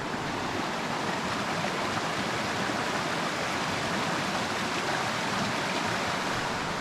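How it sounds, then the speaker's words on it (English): Small waterfalls behind a campsite pour out a steady, close broadband rush of water, unbroken for the whole stretch with no voices over it. "there was a set of waterfalls directly behind Kelly. Little waterfalls, nothing crazy"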